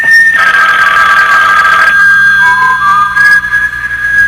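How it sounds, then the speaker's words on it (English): A telephone rings with a loud, steady electric bell tone that cuts off partway through, set in a 1975 radio drama with no voices over it. "Your phone, Harry."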